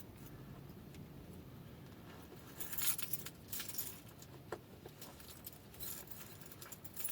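Keys jangle in short metallic bursts near a van being taken apart, scattered clinks rising over a faint steady background hum, with no speech.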